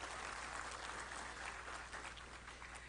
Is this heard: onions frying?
no